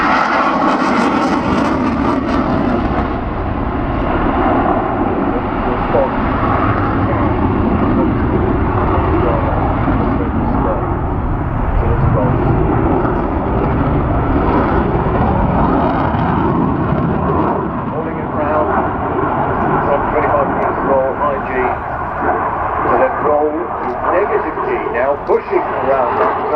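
Eurofighter Typhoon jet at the Farnborough Airshow 2014, a loud sustained roar that swells and holds throughout, with a public-address announcer talking over it.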